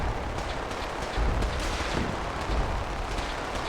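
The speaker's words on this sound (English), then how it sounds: "who's shooting missile launchers?" Missile launcher explosions in a Fallout-style battle video game, dense rumbling booms and crackling gunfire layered into a continuous loud barrage, with a couple of heavier thumps.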